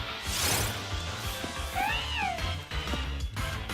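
A Liepard, the cat Pokémon, gives its in-game cry in Pokemon Sword: a single rising-then-falling synthetic meow, loud and clear over background game music.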